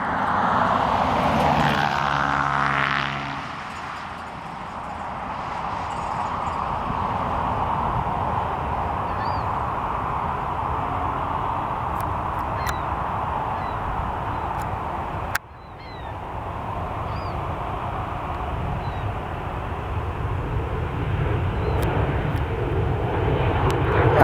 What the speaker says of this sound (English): this Cathay Pacific 747-8 in the retro livery